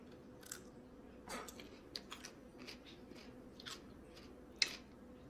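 Crunchy pickles being chewed: a series of faint, close, irregular crunching bites and squishes at a quiet level, with no talking.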